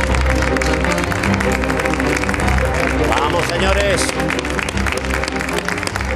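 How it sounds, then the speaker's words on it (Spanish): A television studio audience gives loud, continuous applause that fills the room. A voice briefly urges the crowd on over the clapping. "Un fuerte aplauso para ella."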